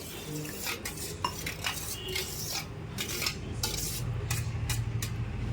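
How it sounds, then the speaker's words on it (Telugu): A spoon stirs thick sorghum porridge in a metal vessel, giving repeated close scraping clinks and soft swishes in an uneven rhythm throughout, with no talking. "మనం మామూలుగా స్పూన్తో తినాలనుకుంటే ఇలా కలిపి కలిపేసుకోవచ్చు"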